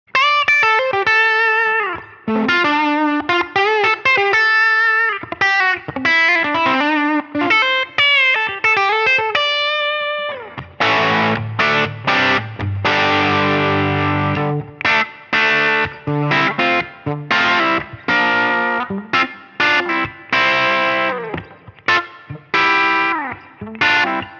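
Heavily distorted electric guitar through a bridge humbucker: quick saturated single-note runs first, then thick driven chords strummed in choppy bursts, loud and up close.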